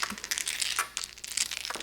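Mah Jongg tiles shuffled by hand across a tabletop, a dense clattering rattle of many hard tiles knocking and sliding together, close and steady with no talk.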